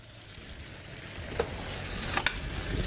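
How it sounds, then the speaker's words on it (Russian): Marinated tofu sizzles gently in hot oil with a steady crackling hiss, punctuated by a few soft clinks of a utensil stirring. "Сейчас мы жарим тофу, пропитавшийся вкусом приправ."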